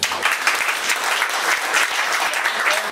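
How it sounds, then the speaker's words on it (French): An audience applauds Denis Collin, who leads a workshop with his wife: a steady, dense wash of clapping fills the whole stretch at moderate loudness, with no talk over it. "Et on peut l'applaudir."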